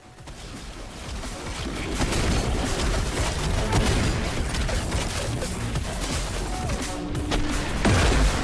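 SMG fire in the video game Sprawl, a fast, continuous rattle of shots mixed with dense action noise, loud and sustained across the whole stretch.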